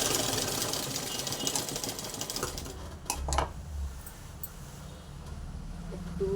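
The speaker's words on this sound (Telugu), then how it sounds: "ఈ ఫ్రిల్స్ పెట్టిన చివరి భాగం అయితే ఇలాగా లైనింగు లంగా క్లాత్ని కలిపి ఇలా కుట్టు వేసేసుకోవాలి" A sewing machine runs fast, stitching frills onto lining cloth for a crop top: a dense, even mechanical whir for about three seconds, then a quieter stretch with a few clacks.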